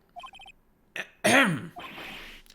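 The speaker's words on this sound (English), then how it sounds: "Maybe I should clear my throat?" In the Phoenix Wright: Ace Attorney video game, a few short electronic blips, then a voiced throat clearing, a loud gruff harrumph that trails off into breathy noise.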